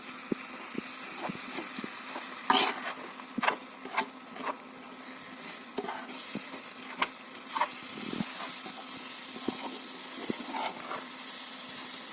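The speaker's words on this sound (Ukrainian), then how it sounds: "Воно починає шкварчати, тому я вже беру ложку і ложкою це все активно починаю вимішувати" A steady sizzle of flour frying in a pan runs throughout while a spoon scrapes and knocks against the pan in irregular strokes, close and busy.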